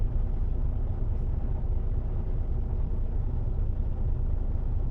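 Cars roll slowly into a customs checkpoint on a freight run, a steady low engine rumble filling the scene without much change and no voices.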